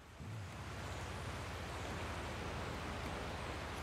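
Rain and water drops in a realistic car driving game near a waterfall, a dense, even hiss of falling water with a faint low rumble beneath, steady and unbroken after a brief start.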